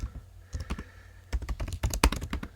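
Quick bursts of keystrokes clatter on a computer keyboard as a title is typed, with a pause near the middle before a denser flurry of taps; close and alone.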